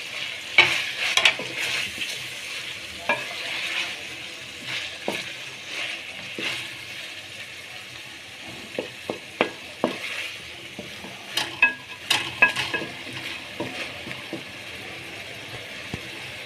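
Chicken and tomatoes for chicken shimla mirch with black pepper sizzle and fry in a pan while being stirred, with scraping spoon strokes and clinks coming and going over a steady close hiss.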